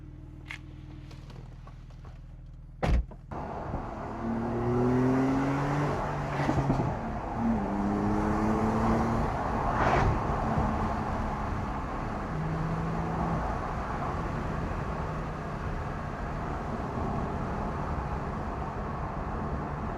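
A 2017 Porsche 911 Carrera 4 with a seven-speed PDK dual-clutch gearbox and turbocharged engine is driven. It pulls steadily with rising engine tones and gear changes, a thud early on, then settles into a continuous cabin drone.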